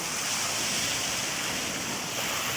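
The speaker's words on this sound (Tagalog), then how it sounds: "Tapos, ang lakas ng alon." Strong sea waves crash at the shore during high tide, making a steady broadband roar of surf with no talk.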